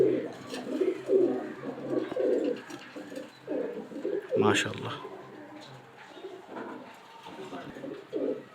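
Female Sirajee Teddy pigeons coo in a soft, repeated rhythm, close by, with someone talking over them and a stronger burst partway through.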